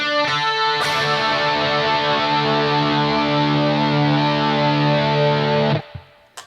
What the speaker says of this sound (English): So he arpeggiates these chords like this